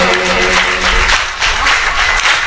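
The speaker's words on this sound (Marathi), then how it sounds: "टाळी वाजवा, वाजवा टाळी वाजवा." Audience at a Bhagwat Katha religious discourse claps in a loud, dense, sustained burst of applause that continues evenly for a few seconds with no talking over it.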